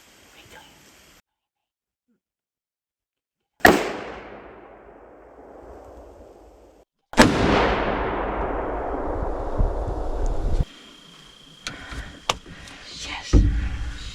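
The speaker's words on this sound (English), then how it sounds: "My papa said this gun was loud. I didn't think it was that loud." Two loud, sharp gunshots from a hunting gun fired at a buck in the woods, each a sudden crack followed by a long decaying rumble, separated by a few seconds, with faint whispering beforehand.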